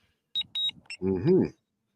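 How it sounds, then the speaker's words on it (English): Short electronic beeps from a device with an on-screen map, several brief tones in quick succession, followed by someone talking close to the microphone. "let me stop the beeping."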